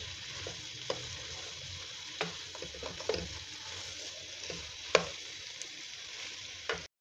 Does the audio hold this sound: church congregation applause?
no